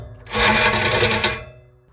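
A Sawzall reciprocating saw bites into the exhaust of a 2V Mustang in one short, loud, buzzing burst lasting about a second, then fades away.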